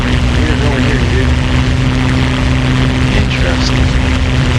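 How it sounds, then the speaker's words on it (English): Propeller warplane engine roaring overhead in the DCS flight simulator, a loud, steady droning buzz with a constant low hum that fills the whole stretch. "There was definitely a plane flying."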